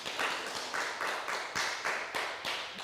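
A church youth group claps for an award recipient at a high school ministry gathering, a steady, fairly loud patter of many hands with rhythmic surges roughly every half second, no voices over it.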